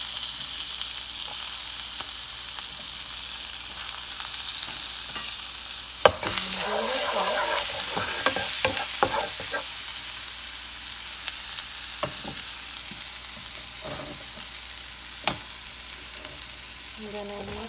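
Spring onion sizzles in melted butter in a frying pan, a steady close hiss with occasional stirring scrapes and light clatters partway through.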